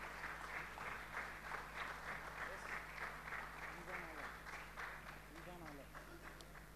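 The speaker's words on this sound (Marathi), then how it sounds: "Let us clap our hands and टाळ्या वाजूया." Church congregation at a Sunday service claps together in a steady, moderately faint round of applause while a voice keeps speaking over it.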